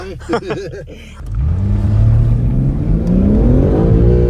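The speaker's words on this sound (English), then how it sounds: "next up, obviously Ronny with the BMW XDRIVE" BMW M3 with xDrive all-wheel drive accelerating hard on an ice track, its engine note climbing steadily from a low rumble to a loud, sustained rev after a brief opening of talk-like sounds.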